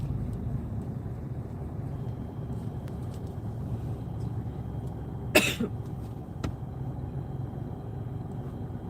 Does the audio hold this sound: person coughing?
yes